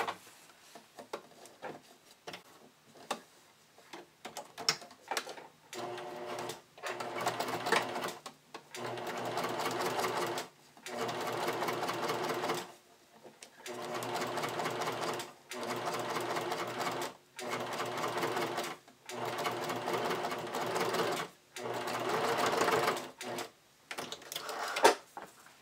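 A sewing machine stitches the front gusset of a bodysuit with snap tape, running in repeated bursts of a few seconds separated by short pauses, steady and fairly close.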